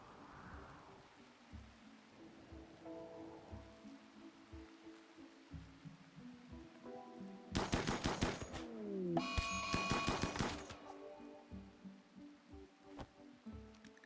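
Gunfire at swans in RimWorld comes as two rapid bursts of shots in the middle, loud against an otherwise quiet, softly rustling ambient background with faint game tones.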